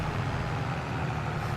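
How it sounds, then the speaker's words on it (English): A truck swings past a house, a brief, loud, steady low rumble of engine and road noise that fills the whole moment without a clear build or fade. "as a truck swings past my house"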